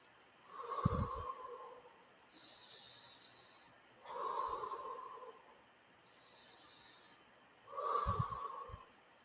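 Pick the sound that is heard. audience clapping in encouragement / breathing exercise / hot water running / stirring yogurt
breathing exercise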